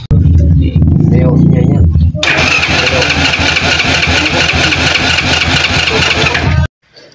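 A motorcycle engine is kick-started and catches, settling into a loud, steady mechanical running roar that cuts off abruptly near the end.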